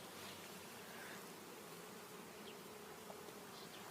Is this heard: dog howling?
no